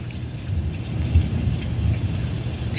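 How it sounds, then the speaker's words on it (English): Thunder rolls in a low, continuous rumble under the steady hiss of heavy rain, fairly loud and unbroken, with no voices over it. "I know y'all hear the thunder."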